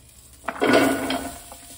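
Unsalted butter sizzling as it hits a hot saucepan, a short burst of frying crackle with a faint utensil clink, close and alone.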